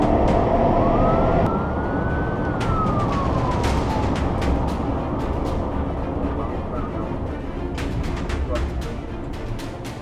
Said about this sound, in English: The patrol lights flash, sirens wail